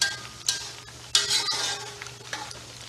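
Ginger, garlic and onions fry in a pan with a steady sizzle, broken by several sharp stirring scrapes and clinks of a utensil against the pan.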